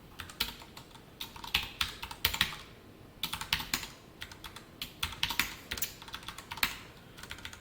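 Java code being typed on a computer keyboard, quick irregular bursts of key clicks with short pauses between them, close and fairly quiet, no speech.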